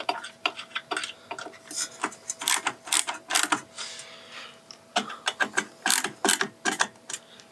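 A screwdriver ratchets in rapid clicking bursts while screws are tightened evenly during a PC build, irregular clusters of close, crisp ticks with short pauses between them and no voices.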